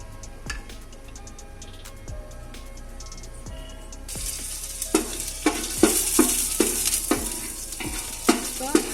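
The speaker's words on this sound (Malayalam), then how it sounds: "അപ്പോൾ ഏലക്കായയും കറുവപ്പട്ടയൊക്കെ ഞാനൊന്ന് വഴറ്റുന്നുണ്ട്" Cardamom pods and cinnamon pieces sautéing in a pan for a catering-style Malabar fish biryani, a soft steady sizzle with clicking stirring scrapes, growing brighter and louder halfway through, no talk.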